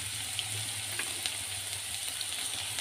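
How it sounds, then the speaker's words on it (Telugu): Onions frying in hot oil for a goat head curry, a steady close sizzle with faint crackles and no talk. "ఇది బాగా నూనెలో బాగా ఫ్రై చేయాలన్నమాట, పచ్చివాసన పోయేంత వరకు."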